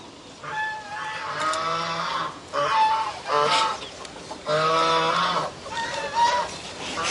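Chickens cluck and call in repeated bursts, fairly close and loud, with short pauses between the calls.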